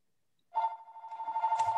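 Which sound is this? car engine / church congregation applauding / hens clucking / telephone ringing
telephone ringing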